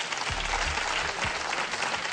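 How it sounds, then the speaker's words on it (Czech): Brief, soft applause from a theatre audience after a hypnosis demonstration on stage, a steady wash of clapping heard from a distance. "vy mi můžete zatleskat"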